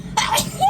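One sharp, close sneeze bursts out after a moment of room quiet and is followed by a short vocal trail-off.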